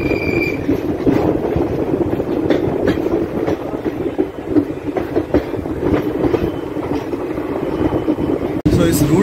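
The Koyna Express passenger train runs steadily on the rails, with a loud, continuous rumble and rhythmic clickety-clack heard from onboard, plus a brief sharp knock near the end.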